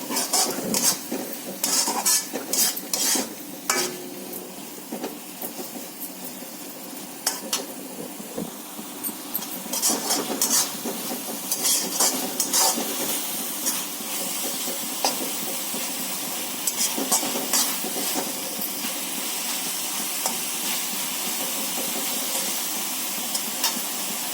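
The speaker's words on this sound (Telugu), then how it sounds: "ఇప్పుడు దీన్ని కొంచెం వేపుకుందామండి, కొంచెం ఫ్రై చేసుకుందాం బాగా" Onions and masala fry in a pan for a fish curry, giving a steady, close sizzling hiss broken by frequent clinks and scrapes of a spoon stirring against the metal.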